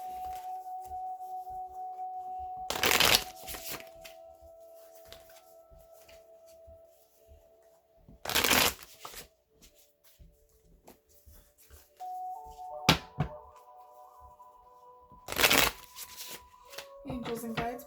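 Tarot cards from a Green Witch's Tarot deck being shuffled in three short bursts spaced several seconds apart, close and fairly loud, with faint tonal background sounds and quiet gaps between bursts.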